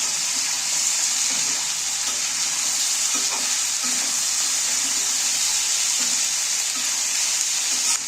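Potatoes cooking in tomato juice in a pan give a steady, close sizzle throughout, with soft scraping and stirring strokes and no talk.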